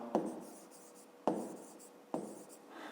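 Numbers written by hand for a fifth-grade maths exercise: three short pen-on-paper strokes, each starting with a sharp tap and trailing into a soft scratch, close and quiet with no talking.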